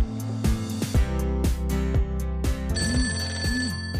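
A telephone ringing with a loud, repeating melodic ringtone in steady rhythmic pulses, while a higher sustained electronic tone joins partway through; no one speaks.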